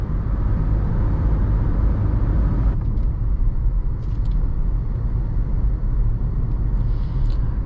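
A 2012 Jeep Liberty cruises at highway speed around 70 mph, with steady, loud low road and engine rumble plus tire and wind noise continuing throughout, with no talking.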